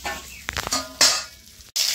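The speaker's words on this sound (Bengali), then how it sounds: "একসাথে আলু সয়াবিনে ভাজা করলাম" Loud, close frying hiss of potatoes and soybean chunks in a pan, with scraping and stirring clatter, surging after a brief pause.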